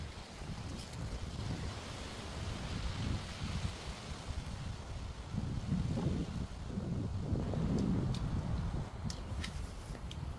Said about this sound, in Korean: 바람 부는 거 봐